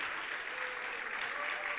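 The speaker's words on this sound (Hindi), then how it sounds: "कितनी ताली बजाई आप लोगों ने।" Audience clapping at a Jain religious discourse in Delhi, a dense, steady wash of applause that fills the whole moment without a break.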